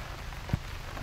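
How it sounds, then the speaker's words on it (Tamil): Steady rain falling outdoors at a village cooking site, a soft, even hiss of drops on surfaces with one faint low thump partway through and no voices. "நம்ம சமைக்கிற அன்னைக்கு தான் மழை வரணுமா?"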